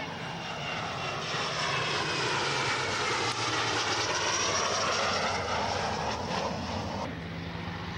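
A fixed-wing propeller aircraft flies past on a photo pass at an air show. The engine roar swells and fades with a smooth pitch sweep, loud and continuous, and no one speaks.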